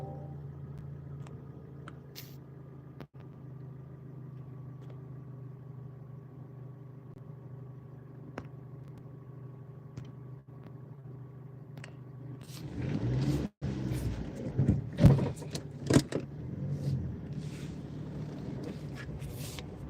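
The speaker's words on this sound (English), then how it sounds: "Let me drive home." A car engine idles steadily on a night drive home in Finland, then picks up with louder revving and movement as the car pulls away, with scattered thumps and rattles near the end.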